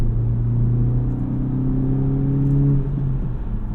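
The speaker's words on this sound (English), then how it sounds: "you hear that kind of induction sound as it starts to build up and you know you're approaching VTEC" A 2023 Honda Civic Type R accelerates with its induction sound building, a loud close engine drone climbing steadily in pitch before easing off near the end, with no talking.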